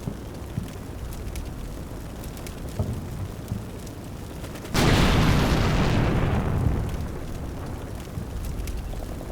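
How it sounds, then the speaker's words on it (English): A tank fires in the Combat Mission Black Sea war game, one heavy boom that bursts out mid-scene and rumbles down over a couple of seconds, preceded by quieter scattered battle noise and small pops. "that was our tank firing at the other guy"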